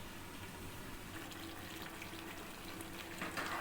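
Chicken kosha simmering in a covered pan gives a low, steady bubbling sizzle with a faint watery hiss, rising slightly toward the end; no one speaks.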